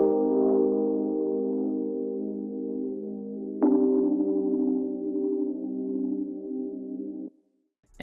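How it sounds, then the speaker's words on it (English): A synth pad sample from Splice holds a warm, sustained chord that shifts to a new chord partway through, then stops abruptly before a brief click at the end, with no voices. "This first one is just like a synth pad thing."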